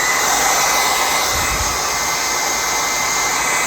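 A heat gun (paint stripper) blows hot air during an e-bike voltmeter install: a loud, steady, close rushing roar with a brief low thump partway through.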